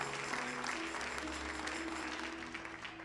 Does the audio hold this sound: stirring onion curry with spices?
no